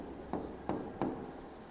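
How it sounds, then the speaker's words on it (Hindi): A pen writes by hand on paper while a math problem is worked out, making three short scratching strokes about a third of a second apart over faint steady room hiss, with no talking. "फिर लिखेंगे"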